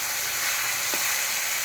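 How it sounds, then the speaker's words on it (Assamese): Fish frying in hot oil with onion, chili, ginger and garlic, a steady close sizzle holding throughout, with one brief scrape of stirring partway through. "দিলোঁ তেল গৰমত, পিঁয়াজ দিছোঁ আৰু জলকীয়া আদা ৰচুন চব দি দিছোঁ।"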